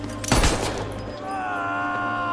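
Gunshots in an action film about a bloody robbery, a short loud burst of rapid shots at close range, then quieter background tones, with a narrator's voice running over it.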